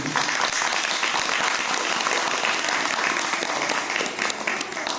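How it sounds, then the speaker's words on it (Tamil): A crowd claps together after children's singing at a Tamil gathering, a loud, dense and steady burst of applause that fills the space for about five seconds without a pause. "நாம் அனைவரும் இணைந்து கரகோஷம்"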